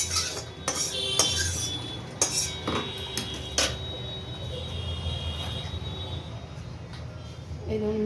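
Metal kadai set down on a kitchen stove while cooking fish, heard as a few sharp clanks and scrapes of cookware followed by quieter rattling.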